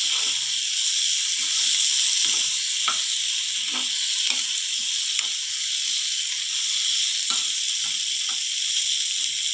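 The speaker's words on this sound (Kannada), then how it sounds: "ಈ ಹಂತದಲ್ಲಿ ಒಂದು ಟೊಮೆಟೊನ ಸಣ್ಣ ಸಣ್ಣ ಪೀಸಾಗಿ ಹೆಚ್ಚಿಕೊಳ್ಳಿ. ಎಲ್ಲ ಚೆನ್ನಾಗಿ ಬಾಡಿಸ್ಕೊಳ್ಳಿ." Onion, chili and tomato for radish chutney fry in a pan with a steady, bright sizzle, broken now and then by soft ticks and pops of stirring.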